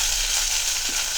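Curry leaves and green chilies sizzle in a frying pan, a steady broadband crackle of hot oil that stays even and close throughout the short moment, with no voices.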